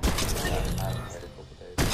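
A continuous burst of gunfire from the video game Fortnite rattles loudly for most of the moment, dips briefly, then resumes sharply at the end under a player's talk.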